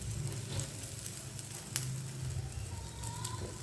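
Oil sizzles and crackles quietly and steadily around eggplant pakoras cooking in a pan, a soft continuous frying hiss with a few small pops.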